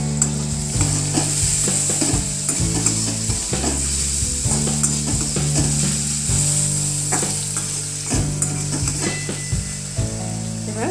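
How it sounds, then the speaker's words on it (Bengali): Mushrooms frying in oil for a creamy mushroom dish, a steady loud sizzle and hiss with occasional stirring scrapes, close and continuous, under a low hum of background music. "তো এখন মাশরুমগুলো এখানে ভাজা হচ্ছে।"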